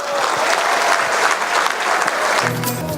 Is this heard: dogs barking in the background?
no